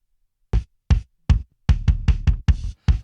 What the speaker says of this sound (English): Here's the parallel compressed kick.